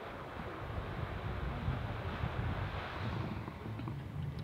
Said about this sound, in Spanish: escucháis el mar sin estar al lado del mar